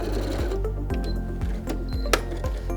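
A sewing machine stitches Santaflex fabric for a men's toiletry bag, its motor humming in a steady rhythm of repeated needle strokes, with short pauses and a sharp click near the end.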